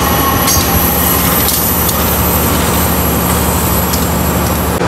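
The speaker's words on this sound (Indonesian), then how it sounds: "Lokomotif vintage di langsir ya teman-teman." A vintage locomotive is shunted in a rail yard near a turntable, a loud continuous engine rumble and hum with a steady hiss running throughout.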